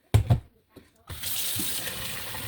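Tap water runs steadily into a kitchen sink as parboiled rice is rinsed, a continuous close splashing hiss after a few brief handling knocks at the start.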